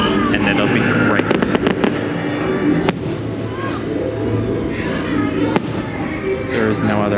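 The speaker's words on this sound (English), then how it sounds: "This is the best part of the fireworks, though, and it'll be great." A fireworks display booms and crackles, with a dense rumble of bursts and two sharp, loud reports standing out, while people chatter nearby throughout.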